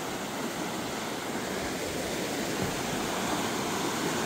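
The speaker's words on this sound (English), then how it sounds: "There's a bunch of waterfalls that way" Several waterfalls rush nearby in an icy landscape, a steady broad roar of falling water with no break, no voices present.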